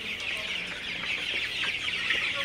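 Several Sonali super hybrid chickens cluck softly and continuously close by, a busy, fairly quiet chatter of hens.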